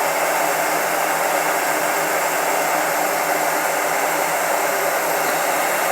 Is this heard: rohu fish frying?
no